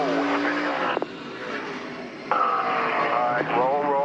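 A race truck on a track revs hard as its back tires spin, the engine note rising and dropping in pitch with abrupt shifts, loud and close.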